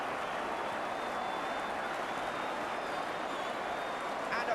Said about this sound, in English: And applause ringing round Villa Park when they know a good goal